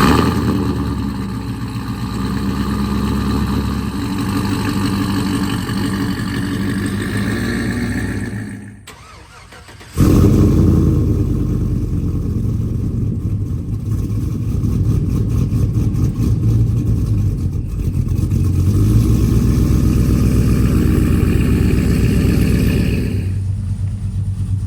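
A pickup truck engine turns over and catches, settling into a loud, rumbling idle; it cuts off briefly, then restarts and idles steadily with a throaty drone.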